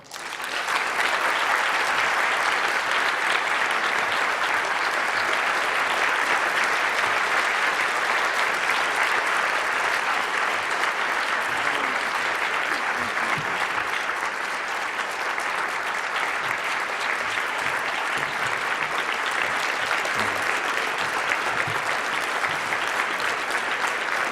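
Audience at a Rhode Island School of Design MLK keynote applauding to welcome Danny Glover, a dense, loud, sustained clapping that holds evenly without a break.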